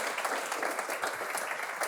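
An audience applauds Hannes Koch with steady, dense clapping, moderately faint and continuous throughout with no speech over it.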